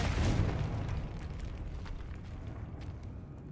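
A Confringo blasting spell goes off in the Hogwarts Legacy video game, a loud booming explosion at the start that settles into a long, rumbling, crackling decay.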